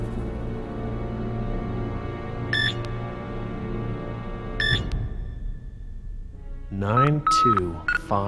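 Keypad beeps from Jurassic Park: The Game ring out as a code is entered. Two single tones come first, then a quick cluster of beeps near the end, over a low, steady background hum.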